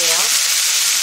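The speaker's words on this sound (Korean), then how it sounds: "불을 아주 세게 강불로 합니다. 그리고 고기를 구워낼게요." Beef chuck eye roll sears in a hot pan over high heat, giving a loud, steady, close sizzle that fills the whole moment without pause.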